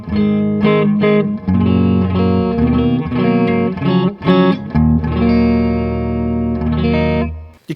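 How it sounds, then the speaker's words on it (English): An electric guitar plays held chords through a Pastfx Elastic Mattress flanger pedal, a variant of the EHX Electric Mistress, set to a static filter-matrix sweep. The loud, sustained, thick, slightly metallic tones change chord in several steps with brief gaps. "you kind of get that flanger type sound"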